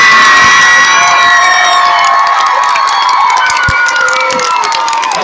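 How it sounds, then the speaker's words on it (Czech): A young crowd at a YouTuber stage event in Olomouc erupts in loud cheering, whoops and shouts, a dense, close roar sustained throughout with some clapping mixed in. "poprosím velký potlesk pro"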